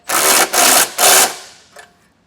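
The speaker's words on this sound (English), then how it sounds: "I'm going to use a 3/4 inch socket and get these tightened down." A 3/4 inch socket driving trailer hitch bolts on a 2021 Jeep Grand Cherokee, three quick loud bursts of ratcheting power-tool whirring close by, then a softer brief tap and silence.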